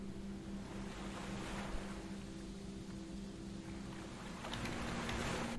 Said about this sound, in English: What is this, ocean waves?